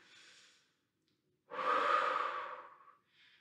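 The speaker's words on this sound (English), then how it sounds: "Still breathing deeply, let's switch other side." Deep breathing during a cardio workout stretch: a short exhale, a pause, then one long, loud, close breath that fades out, followed by the start of another.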